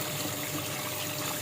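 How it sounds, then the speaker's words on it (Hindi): Tap water runs steadily and loudly for rice washing in a home kitchen, a continuous broadband gush with no pauses and no talk. "पानी चल रहा है।"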